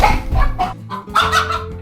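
Chickens cluck in short, uneven bursts close by, several backyard hens heard while garden beds are being cleaned up in spring.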